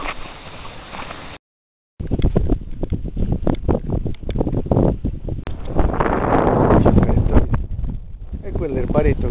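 Strong beach wind buffets the microphone in rough, continuous gusts, rumbling loudly with a short dropout, while someone talks intermittently over it.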